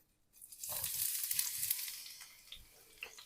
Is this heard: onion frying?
yes